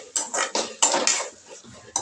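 A spoon scrapes and clanks against a metal pan while onions and tomatoes fry, giving a string of close, uneven strokes that fade toward the end and then pick up again.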